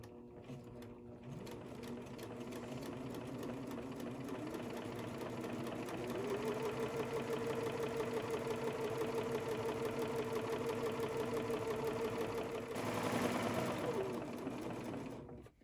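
A serger sewing machine with its knife engaged trims the edge of rayon fabric, running in a steady close mechanical whir that holds for a long stretch and briefly speeds up near the end.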